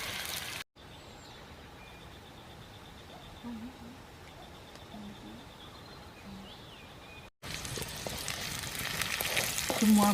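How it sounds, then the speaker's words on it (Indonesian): Food stir-frying in a pan at a makeshift forest hut cookout: a steady crackling sizzle runs throughout, briefly cut out twice, with faint bird calls in the background. "Goreng-goreng, masak-masak, tumis-tumis."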